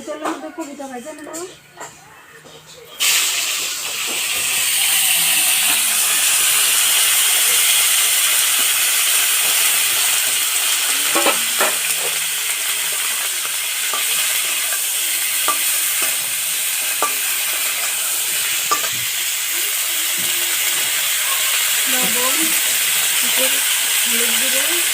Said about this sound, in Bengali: তেলের মধ্যে কপিটা ভাজা নেব।